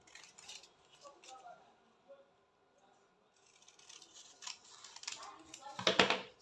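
Scissors snip through fabric being cut for a sweetheart bustier, a few soft, sharp cuts spread across the moment, growing louder and closer near the end.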